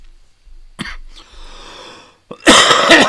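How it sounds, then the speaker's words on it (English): A man coughs in a radio studio, a sharp cough followed by a rough hacking stretch, then a louder, harsher fit of coughing at the end, close and prominent. "that is some coughing stuff"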